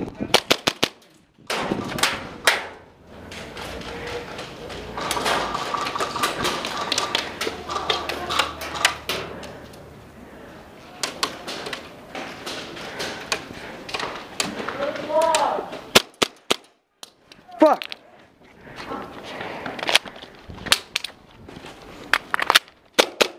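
Pistol shots fired in a series of sharp, cracking bursts, some in quick rapid strings and others spaced apart, moderately loud with people talking between them.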